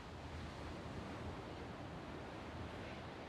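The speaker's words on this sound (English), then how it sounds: "the sound of the ocean, the waves lapping on shore, rhythmically" Ocean waves wash steadily onto a beach at a surf retreat, a continuous broadband roar of surf mixed with some wind, with no distinct individual wave breaks standing out.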